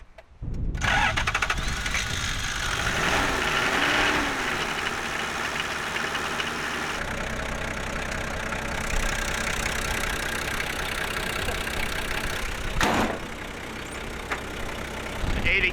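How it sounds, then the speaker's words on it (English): A Toyota Land Cruiser HJ47 Troopy diesel engine cranks briefly and catches, then settles into a loud, steady, slightly knocking idle close by, with a short clunk partway through and no talking. "So let's start it up, see if she starts this morning."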